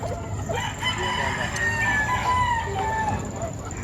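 Several chickens cluck and call at once, with rooster crowing rising above a busy, steady background at a poultry market in Padre Garcia, Batangas.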